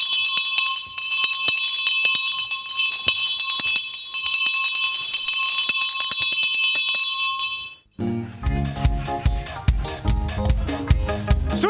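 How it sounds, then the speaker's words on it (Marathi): A theatre's third bell rings in one continuous, loud electric peal for about eight seconds before a Marathi comedy stage play, then cuts off as loud music begins. "तिसरी बेल द्या."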